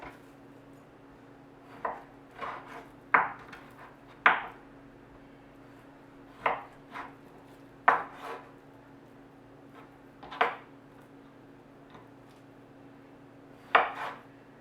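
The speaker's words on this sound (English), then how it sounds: "And now we cut it into pieces, stewing beef pieces." About three pounds of beef being cut into bite-sized stewing pieces on a board: a dozen or so sharp knife chops at uneven intervals, close and fairly loud, against a quiet steady room hum with no talking.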